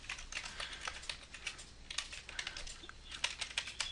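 A telnet command is typed on a computer keyboard in a quick, irregular burst of light key clicks, close and fairly quiet.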